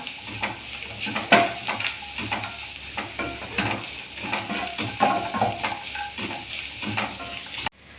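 A pan sizzles as a filling with cardamom powder is sautéed and stirred, spatula scrapes and clinks over a moderate steady frying hiss, close by, ending with a sharp knock.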